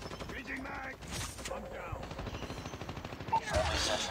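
Rapid automatic gunfire in the mobile shooter game Call of Duty Mobile, dense rattling bursts with a few pickup and reload sounds, fairly quiet and steady through most of the stretch.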